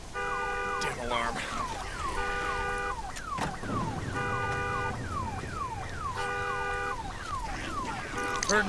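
A car alarm in the video game Days Gone blares a loud electronic warbling pattern that repeats in steady cycles, with a few sharp bangs cutting through.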